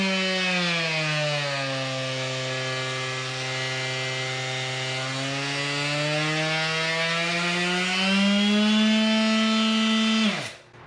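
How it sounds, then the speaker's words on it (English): DeWalt 20V cordless sander running alone, a steady loud motor whine that dips slightly in pitch through the middle, rises toward the end, then winds down abruptly as it shuts off. "Really a good sander."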